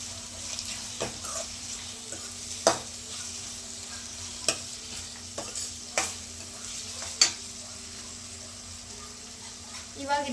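Capsicum rice mixed with salt being stirred in a pan, a low steady sizzle under a string of sharp, evenly spaced clicks and scrapes of a spoon against the pan, close and alone.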